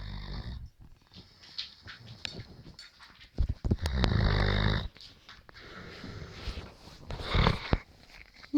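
Someone snores in repeated slow breaths, rasping inhales rising and falling in uneven bursts, fairly close and quiet, with no talk over them.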